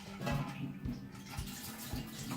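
Tap water running and splashing into a large brew pot for a 5-gallon orange golden ale, a steady continuous pour with a few heavier gushes, close up and alone.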